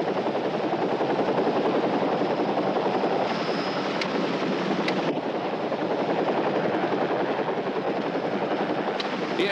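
A helicopter's dense, steady rotor roar fills the whole stretch, loud and close, with a faint whine above it and no voices.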